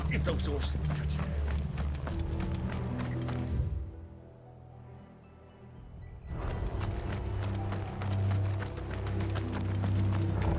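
Horses gallop in Final Fantasy XVI, a close, rhythmic clatter of hooves that drops away briefly to near quiet and then returns just as loud.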